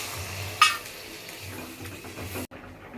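Water poured into a spiced egg-potato curry frying in a pan, giving a sudden hiss followed by soft stirring and low bubbling sizzle, ending with a brief cut; no one speaks.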